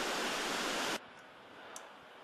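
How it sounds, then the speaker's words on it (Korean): A swollen, muddy river churning high beneath a bridge near Chuncheon after flooding, a dense, steady roar of rushing water that drops abruptly to a softer, continuous wash. "다리 바로 아래까지 바짝 올라와 출렁대는 강물"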